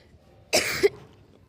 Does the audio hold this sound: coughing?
yes